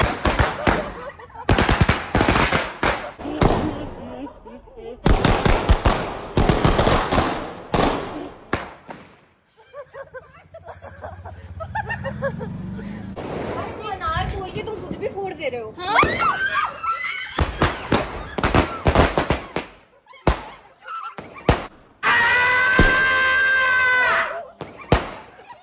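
Diwali firecrackers go off in loud, sharp bangs and crackling clusters at a family celebration, with screams and excited talk between the bursts and a long fizzing burst near the end.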